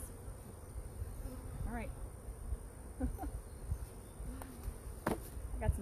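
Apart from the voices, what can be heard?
honey bees buzzing around a hive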